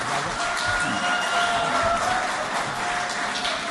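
Steady applause from a large audience at a mushaira poetry gathering in Bahrain, a dense continuous clatter of clapping that holds loud and even throughout with a faint murmur of the crowd beneath.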